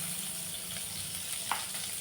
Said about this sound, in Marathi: आता मी याच्यात थोडंसं बटर घालून घेणार आहे, थोडं बटर आणि थोडं तेल असं मी वापरणार आहे